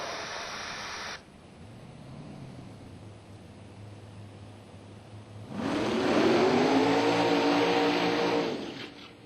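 A blown race car engine at the MIR dirt track rumbles at idle, then revs up hard into a loud, sustained roar close by.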